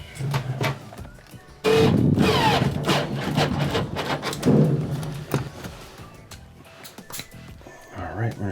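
A power tool tightens the gear case bolts on a Whirlpool washer, with bursts of whirring and clunks of metal up close. Someone talks throughout.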